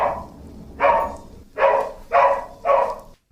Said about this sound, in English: This is my Jack Russell Rocky going off at the postman again.